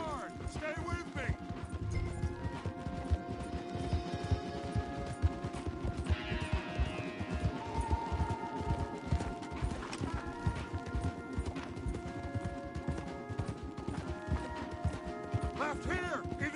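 Steady galloping hooves from several horses drum continuously beneath game music and occasional voices in Red Dead Redemption 2.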